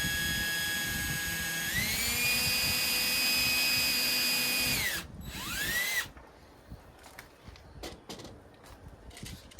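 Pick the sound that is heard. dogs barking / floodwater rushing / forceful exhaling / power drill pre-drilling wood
power drill pre-drilling wood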